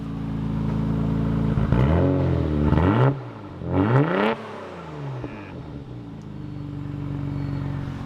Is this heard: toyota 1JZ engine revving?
yes